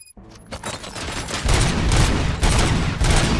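Bursts of gunfire in the RoboCop Rogue City video game, a rapid volley of loud shots that starts after a brief quiet moment and swells into a sustained, booming fusillade.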